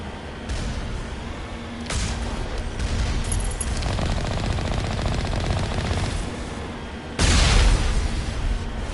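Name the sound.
missiles and gunfire in video game Mass Effect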